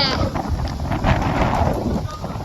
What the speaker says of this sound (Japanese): めちゃめちゃ風強くて